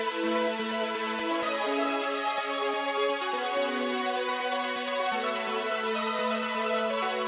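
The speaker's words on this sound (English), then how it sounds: "Next, we have this Soul Seeker lead from Spire once again." A Soul Seeker lead from the Spire synthesizer, run through an Arturia Chorus Dimension D plugin in mode 3, plays a bright, dense melodic line with sustained stepping notes. It is continuous and loud, and no one speaks.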